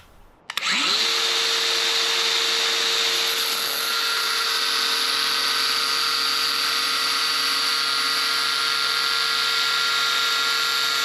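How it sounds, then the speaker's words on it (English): A grinder spins up with a sharp start and then whines loud and steady as it cuts a metal piece for a bracket, a continuous high-pitched grinding roar that holds without pause. "So I'm gonna take this over to the grinder and see if I can get this cut."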